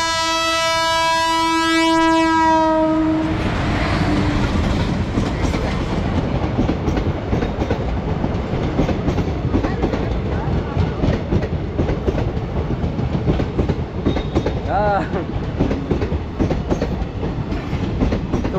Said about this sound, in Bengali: এখন এখানে আরো একটা ট্রেন চলে আসছে